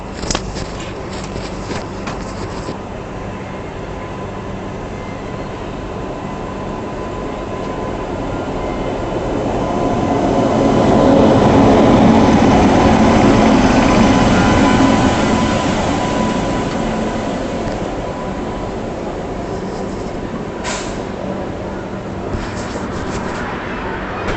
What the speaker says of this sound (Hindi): अजमेर के आउटर पे कोई ट्रेन क्रॉस हो रही है।